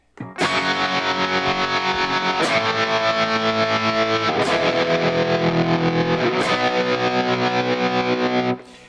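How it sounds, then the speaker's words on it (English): Sustained electric guitar chords through a chorus pedal with optical tremolo set to tap tempo, a shimmering steady pulse, loud and continuous, restruck a few times and then cut off. "Chorus has the optical trem on it, and I have it set for tap tempo"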